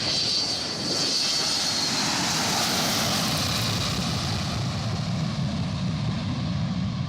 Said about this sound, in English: These Boeing 727 is taking off and immediately retracting the landing gear to reduce drag